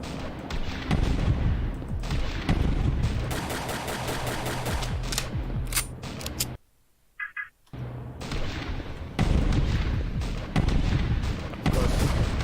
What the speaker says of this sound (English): this is the first boss, which just stays stationary and shoots bullets at us